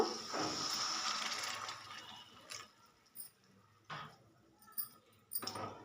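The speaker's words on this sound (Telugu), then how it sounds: "కొంచెం వాటర్ అయితే పోస్తున్నాను." Water is poured into a pan of spiced fish curry base, a splashing pour that fades out, followed by a few light drips and clinks, close and quiet.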